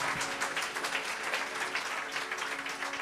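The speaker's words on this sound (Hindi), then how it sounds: "जोरदार ताली" Sustained applause from a congregation at a church service, a steady rush of many hands clapping with a faint underlying tone, moderately distant and without talk.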